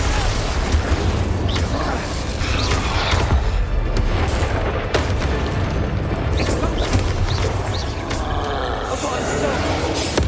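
Bombarda explosion spells in Hogwarts Legacy boom loudly amid dense combat noise, with roaring creature sounds and a voice speaking over the continuous clamor.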